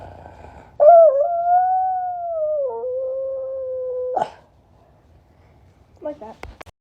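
A person's voice imitates a dog or wolf howl, one long sustained wavering tone that slides down slightly, then a short yip after a pause.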